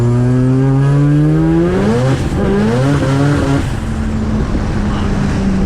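A turbocharged 13B rotary engine in a small Mazda 1300 coupe screams at high revs and slams repeatedly against the rev limiter, a loud harsh buzzing note that stutters and cuts as it bounces off the limit, with voices faintly underneath.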